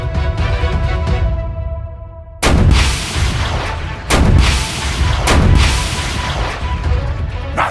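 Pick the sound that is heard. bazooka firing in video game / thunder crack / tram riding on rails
bazooka firing in video game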